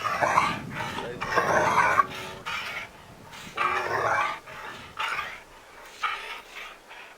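A dog barks repeatedly at close range, in short loud bursts with brief gaps and a rough growling edge, heard alone without talk.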